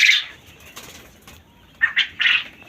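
Farmed quail in a covered pen flap their wings in a few quick, close flurries, one at the start and a cluster of three near the end, separated by quiet.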